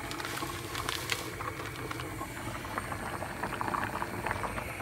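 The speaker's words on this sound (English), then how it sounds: "I'm boiling some fettuccine." A pot of water with fettuccine boils at a steady simmer, a continuous close bubbling patter with small pops throughout and no voices.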